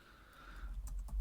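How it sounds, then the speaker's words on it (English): Quiet clicking of keys on a computer keyboard, a few faint taps over low background rumble, with no voices. "Can you hear me typing?"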